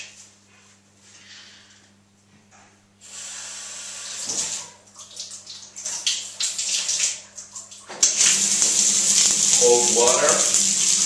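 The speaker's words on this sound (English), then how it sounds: "Cold water." Cold shower water runs and splashes, starting faint and building to a steady loud hiss in the last few seconds, with a person's voice and breathing heard over it.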